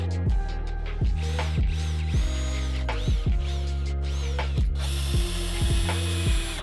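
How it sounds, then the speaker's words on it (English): A driver sinks screws to fasten a plywood panel onto wall studs, running in repeated ratcheting, clutch-clicking bursts with a steady whine, close and loud with no talking. "there's 1/2 a stud for us to screw the plywood onto the stud with"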